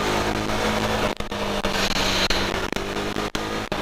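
A Husqvarna Svartpilen 401 motorcycle engine pulls hard under acceleration, a loud rough drone with brief dips at gear changes, heard close and alone.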